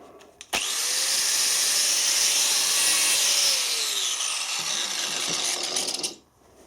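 Rewired grinder starting abruptly, running at a loud, high-pitched steady whine for several seconds with a slight drop in pitch, then cutting off and spinning down quickly.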